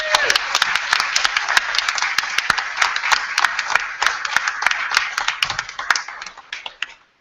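An event audience claps and applauds for the organising team after a debate, a dense, steady wash of many hands lasting several seconds before tapering off.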